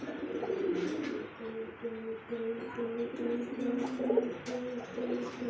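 A male Rasgolla pigeon in a loft coos in a steady, repeating series of low, throaty notes, close and clear over faint background rustle.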